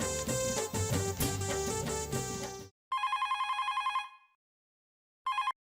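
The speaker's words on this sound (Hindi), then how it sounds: "तब्बूड़ा जेठिया को फोन लगा।" A telephone rings close by in two electronic bursts separated by a short pause, with brief music before it.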